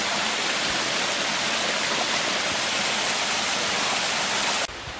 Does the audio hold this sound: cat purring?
no